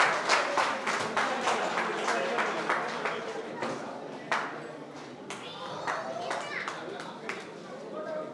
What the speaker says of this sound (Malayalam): കൈയടിക്കുക. നല്ലൊരു കൈയടി.